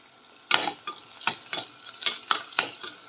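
Garlic and tomato frying with sautéed onions in a pan for a fish curry, a bright sizzle punctuated by about nine rhythmic, close scraping stirs, with no speech.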